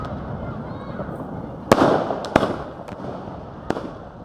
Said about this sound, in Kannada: ಚೌಟ್ರಿಗೆ ಎಂಟ್ರಿ ಆಗ್ತಾ ಇದ್ದ ಹಾಗೆ ಪಟಾಕಿಗಳ ಸುರಿಮಳೆ ಇತ್ತು